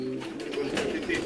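Old black-faced pigeons of a Sialkot line cooing up close, a steady low throaty coo with repeated soft pulses throughout.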